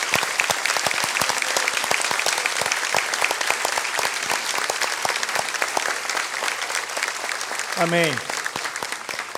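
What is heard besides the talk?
church congregation applauding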